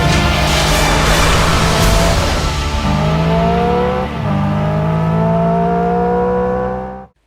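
A 2024 Hyundai Ioniq 5 N electric car plays its generated exhaust sound on a Nürburgring lap, with a loud, close engine-like drone rising in pitch through simulated gear shifts before cutting out abruptly at the end.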